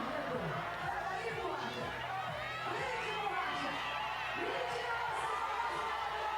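A beach volleyball crowd fills a timeout at a pro tour match in Joao Pessoa, with a steady wash of chatter, scattered shouts and whoops, and music-like swells throughout, moderately distant and continuous.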